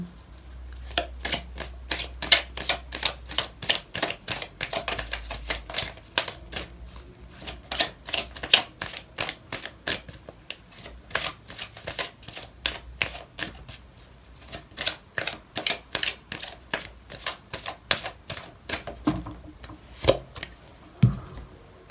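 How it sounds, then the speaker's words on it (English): Tarot cards shuffled by hand up close, a fast run of crisp riffling flicks and slaps in quick bursts, ending with softer handling as a card is drawn. "I'm going to pull out another card for you"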